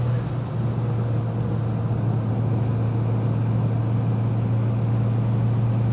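Seat 850 Sport Coupé engine pulling uphill under throttle, a steady close droning hum with a strong low tone that holds evenly throughout, no talk.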